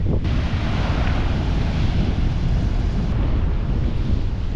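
Stormy ocean surf pounds the California coast, and heavy wind roars across the microphone in a dense, constant wash. It stays loud and close throughout, with no voices.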